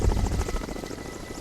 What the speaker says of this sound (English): We were bundled into the helicopter.